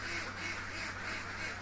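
Laying ducks quack in their pen on a morning farm, a dense, continuous chorus of many birds calling at once, close and steady throughout.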